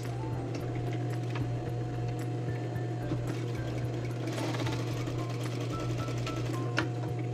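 A sewing machine runs steadily, stitching the collar seam of a men's dress shirt to join the two pieces, with a continuous close motor hum and rapid needle chatter throughout and no talking.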